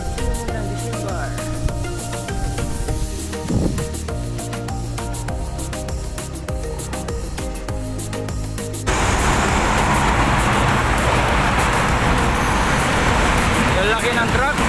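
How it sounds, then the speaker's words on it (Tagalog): A large truck passes on a road, its engine rumbling steadily before a louder broadband rush of tyres and wind swells in as it goes by, amid general traffic noise. "Laki ng truck."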